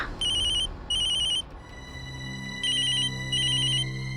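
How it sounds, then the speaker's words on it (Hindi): A mobile phone rings with a repeating electronic tone in paired bursts, loud and close over a low background hum. "अच्छा, ये मोबाइल फोन है।"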